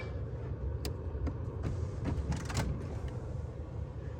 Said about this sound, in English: Let's put the roof up.